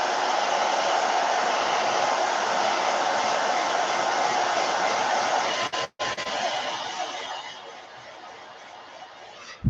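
A heat gun blows a steady, airy whir while heat-setting paint on a fishing lure through mesh, continuous and close, with a brief dropout midway and the sound tapering off toward the end.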